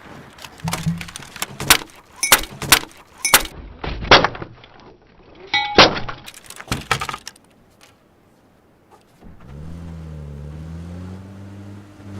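A computer keyboard is slammed and kneed until it breaks during a PUBG: Battlegrounds gaming session. A rapid series of loud, sharp cracking and clattering blows sounds up close, followed by a pause and then a steady low droning hum.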